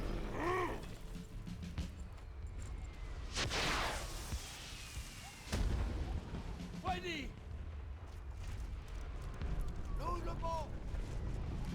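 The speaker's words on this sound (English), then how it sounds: "Firing like crazy." Artillery booms, creaking mechanisms and scattered battlefield effects from the World War I video game Valiant Hearts: The Great War sound at moderate level, with a few sharp bursts over a steady rumbling backdrop and someone talking.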